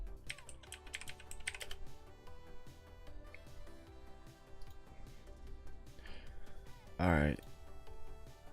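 Clicky typing on a computer keyboard during a livestream, with quick bursts of keystrokes near the start and a louder cluster later, over a background of music and talk.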